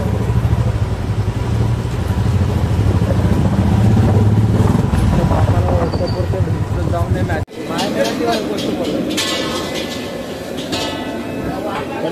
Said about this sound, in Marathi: ही टुनटुनची गाडी, ही आमची गाडी आणि ही राजची गाडी।